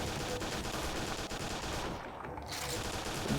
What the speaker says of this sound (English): The automatic weapons are just a joy to shoot